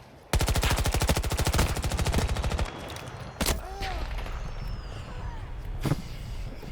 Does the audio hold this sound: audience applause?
no